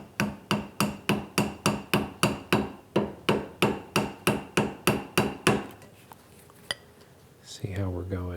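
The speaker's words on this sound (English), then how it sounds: "Going to use a punch and a hammer, and we'll just very lightly tap it down." A hammer taps a steel punch lightly in a workshop, about eighteen quick even metallic clinks in a steady rhythm, then a pause with small clatter and a brief voice at the end.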